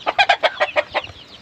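Farm-raised hens, some with chicks, cluck in a quick run of about six close, loud bursts with no voices.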